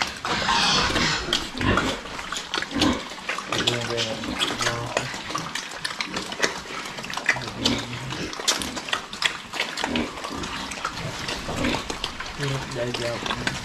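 Farm pigs a little over three months old grunt and squeal in short bursts, mixed with splashing water and someone talking over them throughout.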